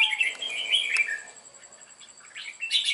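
A young, partly tamed red-whiskered bulbul of four to five months, in moult, gives bright chirps and short whistled notes near the start, then falls quiet before another burst of calls at the end.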